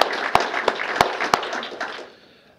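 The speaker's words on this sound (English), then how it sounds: "let's have a round of applause for Mike" Applause from an audience at a city employee recognition awards ceremony, a short burst of clapping with a few sharp distinct claps standing out, dying away after about two seconds.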